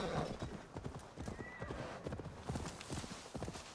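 Horse hooves clip-clopping in a steady rhythm through woodland in Assassin's Creed Valhalla, with a whinny near the start, up close and fairly loud throughout.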